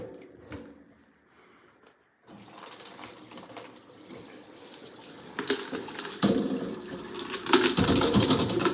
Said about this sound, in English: I'm going to dump it all into this sieve